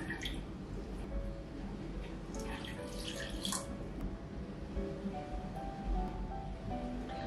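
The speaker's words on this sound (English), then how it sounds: "then I'm going to fill the pot up with probably about a cup of water" Water pours steadily into a pot holding honeysuckle flowers for syrup, a continuous close splashing and trickling with brief brighter gushes, heard alone with no talk.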